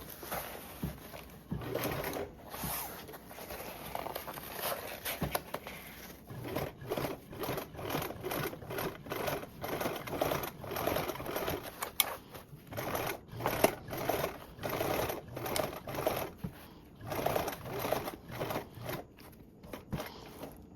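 A sewing machine stitches a bag seam in repeated short bursts of rapid mechanical whirring, including back tacks at a slip pocket, with brief pauses between runs and occasional handling noises.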